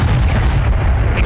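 A spell cast in Hogwarts Legacy lands as a short, loud, deep magical boom, a single heavy burst filling the brief moment.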